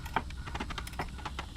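Rapid light clicking and ticking from the track of a Lymow robotic lawn mower, a quick irregular run of about a dozen sharp, close ticks over a low background rumble.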